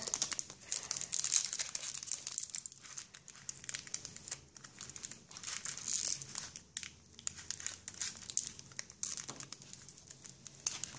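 A Pokémon card booster pack wrapper is torn open with close, continuous crinkling and crackling of the foil plastic, with rustles and small tearing bursts running throughout at a fairly quiet level.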